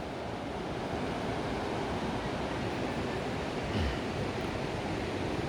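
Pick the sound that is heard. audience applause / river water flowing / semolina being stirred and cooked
river water flowing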